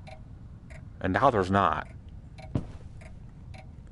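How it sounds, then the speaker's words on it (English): A clock in the horror video game Layers of Fear VR ticks faintly in a slow, even rhythm, while someone speaks briefly over it. "Where did the sound for the clock go?"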